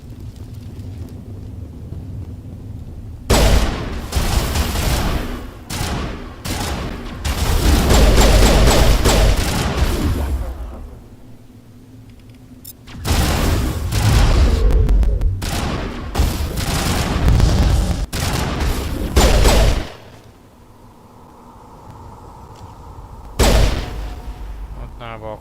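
Gunfire in Mass Effect Legendary Edition, loud bursts of rapid shots and booms in several long bouts separated by quieter gaps, with a person talking throughout.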